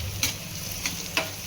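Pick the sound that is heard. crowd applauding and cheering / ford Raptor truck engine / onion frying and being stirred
onion frying and being stirred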